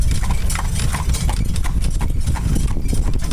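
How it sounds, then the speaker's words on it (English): Hooves of a horse pulling an Amish buggy clip-clop in a steady, fast rhythm close by and loud, with a rumble of wheels underneath and almost no talk. "Driving the buggy."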